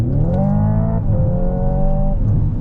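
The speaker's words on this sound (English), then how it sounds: "if I shift all the way up, I'm in 8th gear, and I hit the throttle, it bogs down like a regular ICE engine" A simulated combustion engine in a 2025 Hyundai Ioniq 5 N electric car drones heavily as it bogs down in 8th gear, a loud, steady low rumble with gear-shift-like dips in pitch, heard from inside the cabin.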